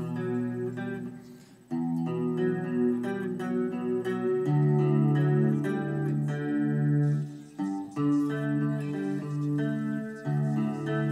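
Electric guitar playing a song's intro riff slowly, a string of clear picked notes and chords with short pauses, close and alone.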